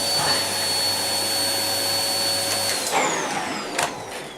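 A 700W Amazon Basics bagless cylinder vacuum cleaner runs with a steady, close whine and airy roar, its pitch shifting near the end as the suction changes.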